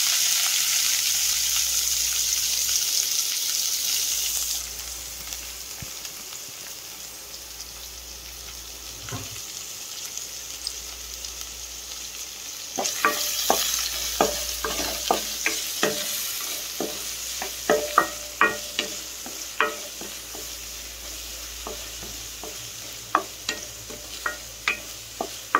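Onions added to hot oil with urad dal and cumin in a pan for a green potato fry, a soft sizzle under a background hiss, then sharp spatula clicks as the mix is stirred.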